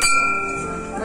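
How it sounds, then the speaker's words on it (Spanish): A small table bell for calling a waiter at a tea table rings with one clear, bright strike that lingers and fades over about a second. "si usted quiere a su mesero, solo tiene que venir y tocar la campana"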